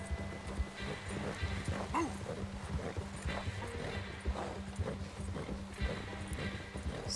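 Horse hooves clip-clop in Red Dead Redemption 2, a steady rhythmic trot kept fairly quiet, with a dog barking in short bursts now and then.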